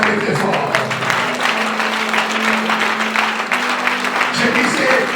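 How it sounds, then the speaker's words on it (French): A church congregation applauding and cheering loudly and continuously during a Sunday service, a dense wash of clapping and crowd noise with voices mixed in. "Est-ce que guerrier peut acclamer très fort?"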